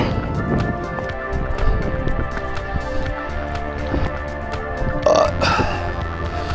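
A single loud burp from a hiker on the trail up Mount Marcy in the Adirondack High Peaks, rising over steady outdoor wind and breathing, with no talk.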